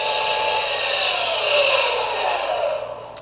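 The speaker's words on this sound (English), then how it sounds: "that's the noise of it powering down" A Star Wars Micro Galaxy Squadron AT-AT Walker toy gives off its electronic power-down effect: a hissy, whirring sweep that holds for about three seconds, then trails off, with no talking.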